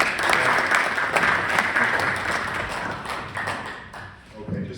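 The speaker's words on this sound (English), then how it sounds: "Please join me in a round of applause, Steve." A room full of people claps to welcome a speaker at a gathering, steady applause with a few louder hand hits, easing off slightly by the end.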